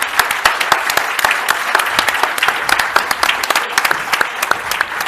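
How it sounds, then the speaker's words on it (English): Audience applause for a competition-law conference panel, steady dense clapping from a seated crowd throughout, close and fairly loud with sharp individual claps standing out. "And I ask the audience to join me in an applause for the panelists."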